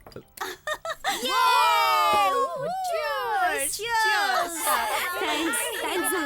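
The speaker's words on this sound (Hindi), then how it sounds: "जैसे बदन में भूत आया है वैसे पागलों की तरह चिल्ला रहे हैं।" Several young women's high-pitched voices shriek and squeal wildly in long, wavering screams, loud and close, with overlapping cries.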